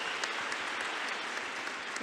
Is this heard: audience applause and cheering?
yes